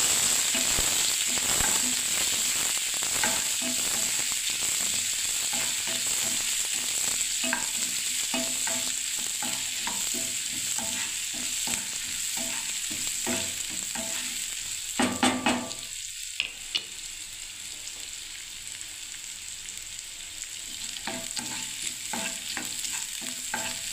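Onion fries in oil in a pan for semolina upma, a continuous close sizzle with repeated scraping stirs of a spatula and a brief clatter midway, no talking.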